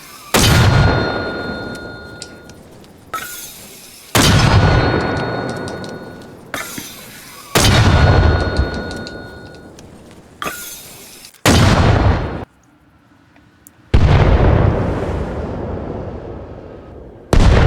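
Mortar rounds in the video game Arma Reforger: a series of loud, booming launch blasts and heavy explosions in quick succession, each with a long rumbling tail, separated by brief gaps.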